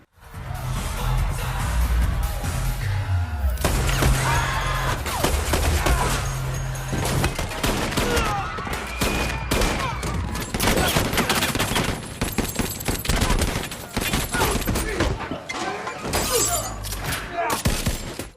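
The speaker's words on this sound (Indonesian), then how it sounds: "Dan terjadilah aksi bedil-bedilan." A film gunfight scene in a gangster story plays dense bursts of gunfire with shattering, crashing impacts, loud and continuous over a low musical score, with some voices mixed in.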